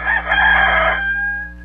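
Electric guitar playing at a live show mimics a rooster's cock-a-doodle-doo, a loud rising-and-falling crowing phrase that trails off into a thin sustained tone, with no voices over it.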